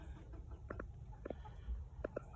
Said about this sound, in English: Look at you go crow.